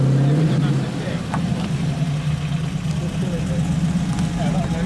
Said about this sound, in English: TVR parking.